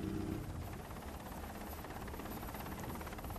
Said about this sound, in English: The lookout in the raft has heard the rotor noise of the helicopter